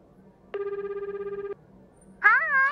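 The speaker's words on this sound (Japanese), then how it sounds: "電話。" Phone ringing in the dating sim Tokimeki Memorial Girl's Side 4th Heart: a steady electronic ring tone lasting about a second, followed by a brighter rising chime, clear and alone with no talk.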